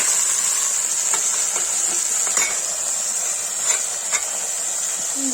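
Cauliflower sabji (gobhi) frying in a pan in a home kitchen, a steady close sizzle and hiss with occasional stirring clicks and scrapes, no voices.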